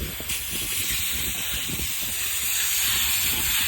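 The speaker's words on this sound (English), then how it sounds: "Make sure you do a good job rinsing it out because it's acidic." Water spray rinsing acidic cleaner off coils, working from the top down: a steady, close broadband hiss that runs continuously and evenly throughout.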